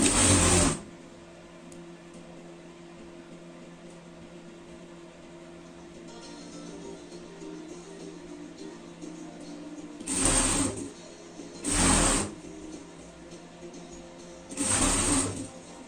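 Sewing machine stitching fabric for a bee costume for a pet, heard as short loud bursts of stitching at the start and three more near the end, separated by a steady low motor hum, close and without talking.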